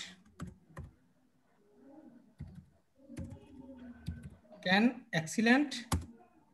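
Computer keyboard typing in short bursts of clicks, fairly close and moderately quiet, alternating with a person talking.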